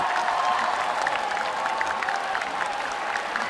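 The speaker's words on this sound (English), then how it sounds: "the crowd here in the Capital Gymnasium are going crazy for the home side" Home crowd at a men's world curling championship match between China and Scotland in an indoor gymnasium, applauding and cheering loudly and steadily after an extra-end win, a dense wash of clapping and shouts without a break.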